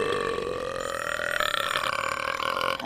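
A long, drawn-out burp from the movie TMNT, loud and continuous for nearly three seconds, with a raspy throaty texture that roughens toward the end.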